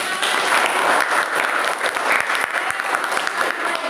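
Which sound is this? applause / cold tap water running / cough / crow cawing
applause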